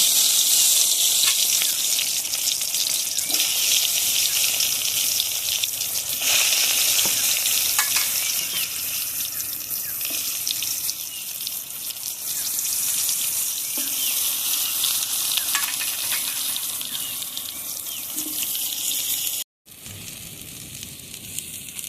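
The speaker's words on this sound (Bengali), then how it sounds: "তেল গরম হয়ে গেছে বেগুনগুলো দিয়ে ভেজে নেব" Loud, continuous sizzling of eggplant frying in hot mustard oil, with occasional pops and crackles, steady throughout with no voices.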